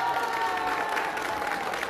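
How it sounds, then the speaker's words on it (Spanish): A church crowd gives a steady round of applause at a seminary gathering in Huajuapan de León, continuous and moderately loud without breaks. "Fuerte aplauso para Monseñor."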